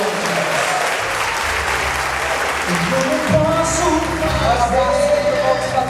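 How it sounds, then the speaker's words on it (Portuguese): A church congregation claps loudly and continuously in praise, with voices and music-like tones rising underneath the dense applause. "Aplauda o Senhor em nome."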